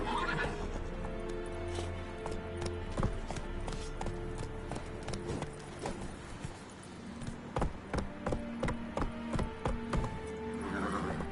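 In The Witcher 3 video game a horse gallops with steady clip-clopping hooves and lets out loud neighs. Game music and effects play underneath.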